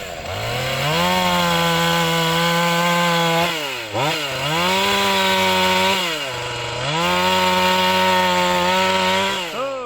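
A chainsaw makes a bore cut into a white pine stump, its engine screaming loud and close at high revs, dipping briefly twice as the load changes, then climbing back to full speed.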